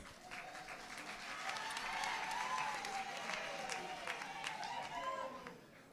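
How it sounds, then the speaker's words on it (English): Applause from an audience at a provincial awards ceremony: a steady, moderately distant wash of clapping that swells slightly midway, with murmuring voices and some cheering mixed in. "Give all three women of substance a round of applause."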